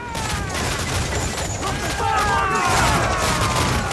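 Ship cannons fire in a dense, continuous barrage during a naval battle in Assassin's Creed 4: Black Flag, with loud overlapping booms and crackling gunfire throughout.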